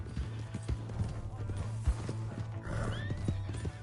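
A horse in the Western game Red Dead Redemption 2 gallops with rhythmic hoofbeats and lets out a neigh near the end, set against background game ambience.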